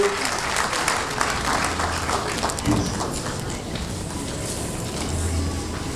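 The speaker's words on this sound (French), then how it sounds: "Applaudissez, applaudissez" An audience at an international colloquium in Brazzaville applauds steadily, a dense wash of clapping that holds evenly from start to finish, with faint voices underneath.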